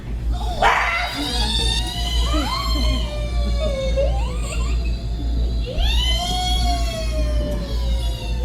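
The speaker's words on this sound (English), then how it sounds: "That's the sound of shrieking eels." Shrill rising and falling shrieks of shrieking eels, several overlapping whistling cries over a low steady rumble of water or engine noise.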